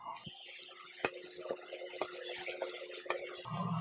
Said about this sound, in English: And here you pour some water.